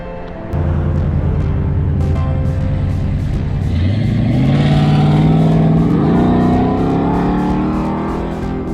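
Road traffic roars past close to a cyclist on a long, straight urban road in the US, a loud continuous engine drone with rising pitch as a vehicle accelerates by.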